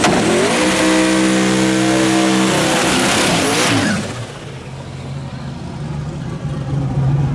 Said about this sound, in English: that's a fucking burnout